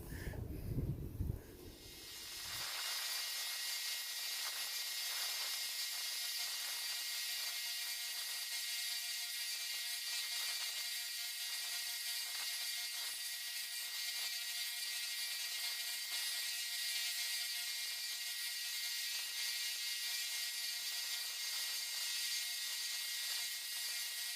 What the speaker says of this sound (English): So now I'm just going to take this bandsaw blade and I'm going to sand, rough sand my shape into this.